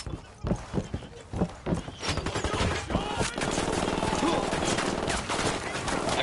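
Gunfire in the video game Ghost Recon Wildlands: a string of separate close shots gives way to a dense, continuous rattle of automatic fire and commotion.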